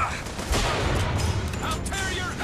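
Gunfire in the game Bioshock Infinite rattles in bursts at moderate loudness, mixed with other game sounds and a voice talking over it.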